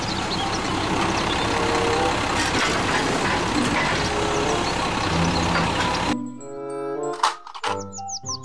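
A toy garbage truck's engine plays as a steady, loud, rumbling truck noise for about six seconds. It then breaks off into brief electronic chirps and beeps.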